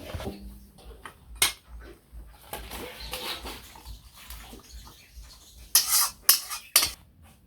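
A cooking pot of sour curry with jujube, mango and fish is lifted off the stove, giving several sharp metallic clanks and scrapes of cookware spread through the clip, with a cluster of louder clatters near the end.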